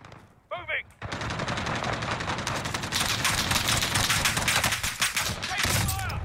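Dense, sustained automatic gunfire from Call of Duty: Warzone rattles at close range for several seconds after a brief shout, loud and continuous with overlapping bursts and a voice briefly audible near the end.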